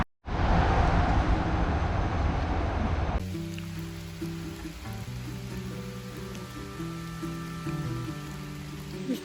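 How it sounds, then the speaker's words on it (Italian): Rain falling steadily and loudly in New York during a bike ride, a dense hiss that softens partway through as a low humming tone joins in. "Sta piovendo"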